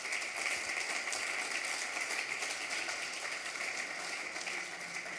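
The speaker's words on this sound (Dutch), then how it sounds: "Graag een daverend applaus voor Erik Pentega." Sustained audience applause at a Dutch panel debate, welcoming a union sector director onto the stage: an even, continuous patter of many hands, moderately distant, steady throughout without a clear build or fade.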